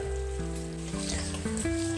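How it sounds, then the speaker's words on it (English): Pork cubes sizzle and fry in a pan for a keto dinner, a steady close crackle with a low hum beneath, no voices. "Okay, you can hear these pork cubes right now."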